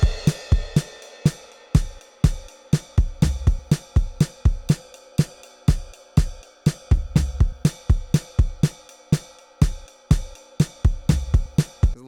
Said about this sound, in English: So then the drums at the bridge sound like this.